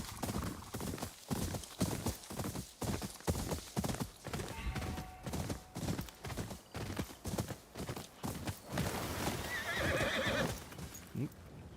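A horse named Tornado in the video game Ghost of Yotei trots with a brisk, steady clip-clop of hooves, then lets out a loud whinny near the end, all fairly close and clear.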